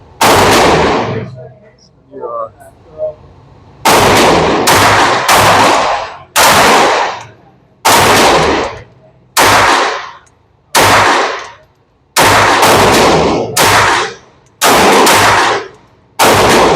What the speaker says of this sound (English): Let me shoot a couple more times before I say.